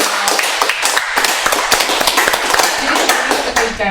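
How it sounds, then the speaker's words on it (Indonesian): An audience at a film discussion event claps in loud, close, uneven bursts that sound like individual hands near the microphone, sustained for four seconds. "kita beri tepuk tangan sekali lagi dong"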